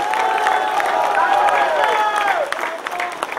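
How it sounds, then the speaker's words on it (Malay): A rally crowd claps and cheers loudly, dense sustained applause with whistles and shouts rising over it, holding steady before easing slightly near the end. "Kita bagi tepukan gemuruh kepada rakan-rakan kaum Cina dan India."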